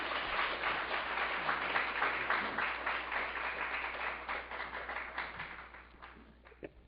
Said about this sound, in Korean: 우리 할렐루야 박수로 맞이하겠습니다